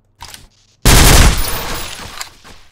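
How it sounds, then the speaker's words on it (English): Automatic weapon fire in the shooter game Nuclear Dawn: a short burst of shots, a brief pause, then a loud, sustained rattling volley close up that tails off into echoing decay. "Shoot in the head. And use automatic fire."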